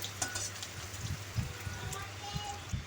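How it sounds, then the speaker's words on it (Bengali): Finely chopped onion frying in oil in a pan while being stirred gives a soft, low sizzle with scattered spatula scrapes and taps over a steady background hum. "পেঁয়াজটা দিয়ে একটু লাল করে কিন্তু ভেজে নেব।"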